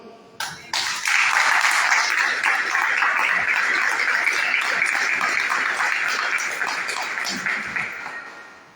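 Congregation in Córdoba, Argentina, breaking into loud sustained applause after a brief sharp start, many hands clapping steadily for about eight seconds before fading.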